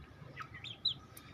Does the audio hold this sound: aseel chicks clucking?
yes